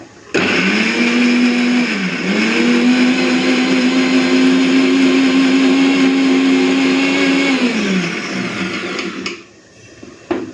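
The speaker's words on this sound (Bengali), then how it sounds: "একবারে বেটে নিই মশলাটা" A mixer grinder whirs steadily as it grinds onion, garlic and ginger into a spice paste, its loud motor holding one pitch for about eight seconds, with a brief dip early on, before it spins down.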